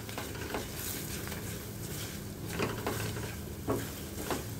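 Kashmiri red chilli and a pinch of asafoetida sizzle in hot oil for a tempering, a steady frying hiss with a few soft stirring clinks, close and fairly quiet.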